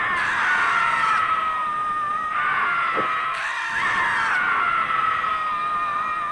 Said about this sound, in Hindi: और फिर इसी के साथ बहुत सारी चीखें गूंजती चली गई।